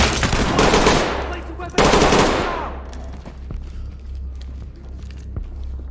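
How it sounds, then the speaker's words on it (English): Bursts of rapid automatic gunfire from enemies in a tactical police video game, two loud fusillades in quick succession trailing off into sparse distant shots and a low steady hum. "Oh shoot, they're firing, they're firing."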